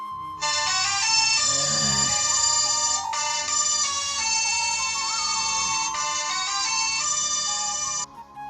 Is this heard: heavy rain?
no